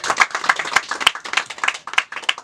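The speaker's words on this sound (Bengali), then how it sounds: "একটা জোরে হাততালি হোক।" An audience at a film trailer launch claps, the applause coming as a dense patter of sharp, close hand claps that holds steady without cheering or talk.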